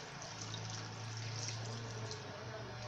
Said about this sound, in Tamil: இப்போ இதோட நம்ம மூழ்கிற அளவுக்கு நம்ம தண்ணி ஊற்றிக்கலாம்.